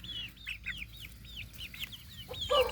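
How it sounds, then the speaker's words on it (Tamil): Chickens on a country fowl farm cluck at feeding time, a quick run of short, clear clucks close by, ending in a louder squawking call. "கோழிக்கெல்லாம் தீனி போடலாம் வாங்க."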